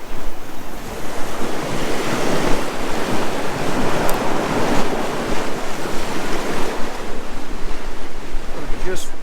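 Strong wind buffets the microphone at a seaside cliff in Northumberland during lure fishing, a continuous loud gusty roar blending with surf washing below, steady and close for the whole stretch with no clear talking.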